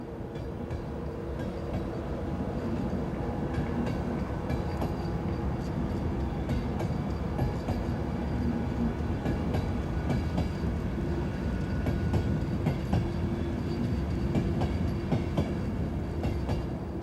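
A British Rail Class 91 electric locomotive train runs past with a constant, dense rumble and faint rhythmic clicking of wheels over rail joints, steady and loud throughout with no voices.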